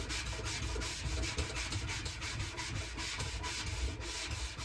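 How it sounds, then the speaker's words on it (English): A knockoff magic eraser rubs ink marks off a clothes dryer's surface in a steady, rapid back-and-forth scrubbing, close and fairly loud, continuous without pauses and with no talking. "The magic eraser makes it a lot easier."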